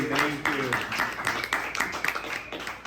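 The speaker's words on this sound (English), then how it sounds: "Another round of applause for Joe, please." Scattered applause from a stand-up comedy audience, fairly quiet, with a few sharp claps standing out over a low murmur of voices throughout.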